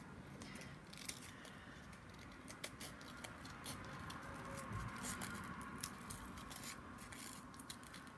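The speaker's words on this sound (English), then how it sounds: "scissors will cut this perfectly well" Soft, steady snipping and rustling as scissors cut through paper, close up and quiet, with a few sharper snips along the way.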